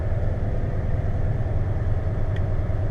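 CASE 340B mine truck hauling a heavy load in first gear, a dense low engine rumble that stays steady and loud throughout, close and alone without talk.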